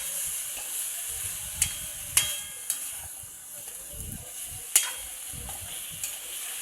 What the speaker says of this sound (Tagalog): Humalo lang ng humalo.